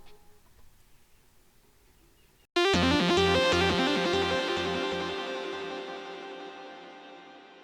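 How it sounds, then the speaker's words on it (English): A synthesizer pulse anchoring a beat bursts in after a quiet stretch, loud, bright repeating tonal pulses with rich harmonics in a steady rhythm, slowly fading over several seconds. "Came across a fun little synthesizer pulse sound that became the anchor of the song"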